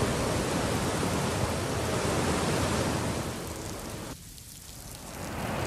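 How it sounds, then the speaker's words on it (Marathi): Savatsada waterfall near Chiplun in full spate after heavy monsoon rain, a dense loud continuous roar of rushing water that dips briefly toward the end before swelling again. "प्रचंड वेगाने हा धबधबा वाहतोय।"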